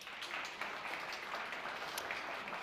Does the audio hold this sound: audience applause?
yes